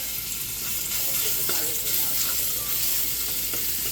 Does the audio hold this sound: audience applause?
no